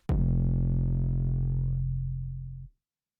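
A single bass one-shot from an FL Studio remix sounds once, a sharp click attack into a deep, sustained buzzy bass tone that holds for over two seconds before cutting off abruptly.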